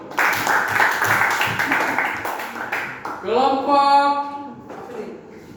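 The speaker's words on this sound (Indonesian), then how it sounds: "Tepuk tangan dulu." Classroom applause, a dense patter of many hands clapping for a few seconds, then children's voices rising in a drawn-out cheer.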